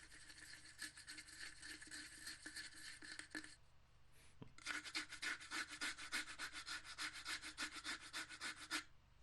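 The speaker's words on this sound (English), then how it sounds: "You can also use a scratching technique." A wooden plate scratched against a resonating box gives a steady rasping scrape for about three seconds, then a brief pause, then a second, louder run of rhythmic, closely repeated scratch strokes, close up with no voices.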